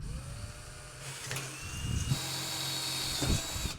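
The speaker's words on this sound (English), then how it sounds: "That would have been easier if my 4mm drill bit wasn't dead blunt." A 4mm bit that has gone dead blunt drills a pilot hole through steel box section. The close, steady grinding whine continues throughout with shifting pitch, loudest toward the end.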